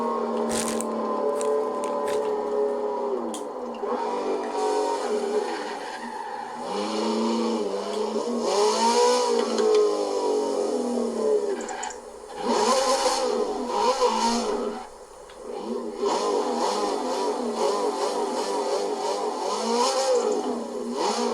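In Forza Horizon 4, a V8 car engine driven through snow revs hard toward 8000 rpm, rising and falling repeatedly through gear changes, with brief dips where the throttle lifts.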